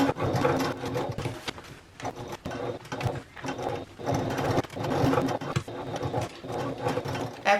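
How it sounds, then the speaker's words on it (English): A sewing machine top stitches a travel bag along the bottom edge at the lining, running in steady bursts with brief pauses, close and clear with no talk. "we're going to go to our sewing machine and we're going to top stitch alongside the bottom edge where the lining is"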